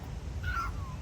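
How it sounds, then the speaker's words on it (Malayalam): A cat in an outdoor park in Dubai gives one short, rising-then-falling meow, fairly close, over low background rumble, with no talk. "മ്യാവ് മ്യാവ് എന്ന് പറഞ്ഞു പോന്നു."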